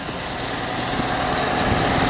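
A 1992 Spartan Superior ladder fire truck with a Detroit diesel idles close by on a Montreal street, a steady, fairly quiet low rumble with constant vibration and no break.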